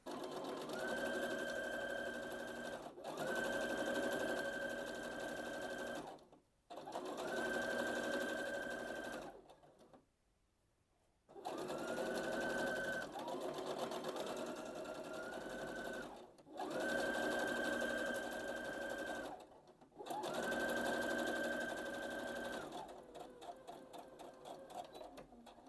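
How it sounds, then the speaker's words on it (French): A domestic sewing machine joins two seams in loud, close runs of fast whirring stitching, several bursts separated by brief pauses as the fabric is repositioned. "Je pars en machine pour assembler ces deux coutures."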